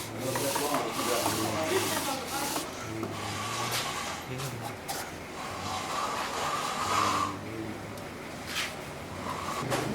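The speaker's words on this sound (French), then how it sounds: "Le bol, après laquage, est poncé puis poli avec un tampon végétal chargé de poudre de bois." A lacquered bowl is sanded and then polished by hand with a plant-fiber pad loaded with wood powder, giving steady close rubbing and scraping strokes that rise and fall over a low background hum.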